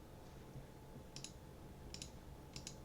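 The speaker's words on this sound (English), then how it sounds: "And then click choose." Three faint, crisp clicks from a computer mouse come at roughly even intervals over a quiet background.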